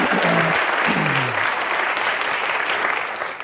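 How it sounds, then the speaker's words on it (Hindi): A studio audience on a comedy talk show applauds a guest: loud, dense clapping fills the moment and slowly tapers off toward the end. "जोरदार ताली अनुपम सर के लिए"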